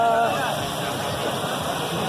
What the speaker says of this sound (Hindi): ये देखो कम से कम 120 की स्पीड में पानी चल रहा है भाई इस टाइम